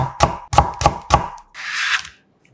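A knife julienning carrot chops sharply on a cutting board four times in quick rhythm, followed by a soft scraping sweep.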